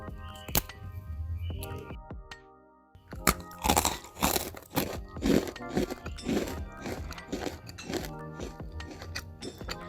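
Crunchy ginger cookies baked in a stovetop oven being bitten and chewed close up, a run of sharp crisp crunches after a quieter start, over soft background music.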